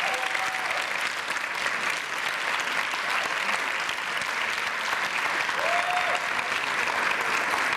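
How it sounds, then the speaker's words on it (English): An audience at an NAACP leadership opening session applauds the panelists, steady dense clapping from a large crowd filling the room throughout without a break. "Can you all join me in giving a round of applause to all of our panelists?"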